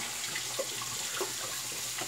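Steady running water from a tap, a continuous hiss with faint splashing, fairly quiet and close.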